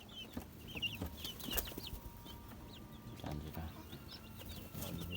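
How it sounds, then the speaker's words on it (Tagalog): Young chicks about a month old in a brooder bedded with rice hull and sawdust, giving high thin peeps and soft clucks scattered throughout, close by and fairly busy, with low background rustling. "So malulusog yung mga sisiyo natin."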